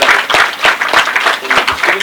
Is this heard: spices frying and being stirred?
no